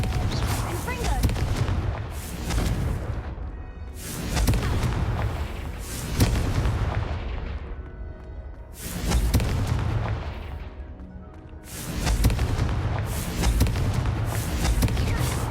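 Confringo fire spell explosions in Hogwarts Legacy, repeated heavy booming blasts roughly every few seconds with rumbling low tails, loud and close, mixed with game combat noise.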